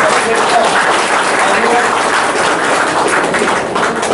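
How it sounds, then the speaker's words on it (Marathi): A live audience claps loudly and steadily at a painting unveiling ceremony marking the Shivaji coronation anniversary. The applause holds dense and even for about four seconds, with no talk over it. "एकदा जोरदार टाळ्या त्यांच्यासाठी आपण."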